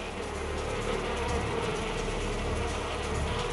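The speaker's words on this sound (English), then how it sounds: "In a horde, the defenders rush the hornet scout, enveloping her in a wave of bee bodies." A dense swarm of honeybees mobs a giant hornet scout, producing a steady, loud, close buzzing drone that stays even throughout, with no voices.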